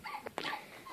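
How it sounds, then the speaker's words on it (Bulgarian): A dog gives a couple of short, faint barks and yips in quick succession, heard from nearby against a quiet background. "Съжалявам, едно куче се задейства."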